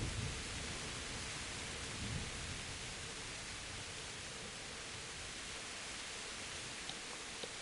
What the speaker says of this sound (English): Very much lightning and thunder and rain going on in this episode.